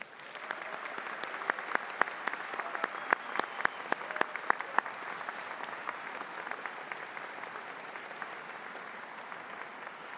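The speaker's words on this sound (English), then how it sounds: "Would you please join me in a round of applause for Ms. Beverly O'Connor, our esteemed name reader." Audience applause at a university graduation ceremony: steady, even clapping from a large hall crowd, with a few sharp nearby claps standing out early on, continuing evenly for about ten seconds.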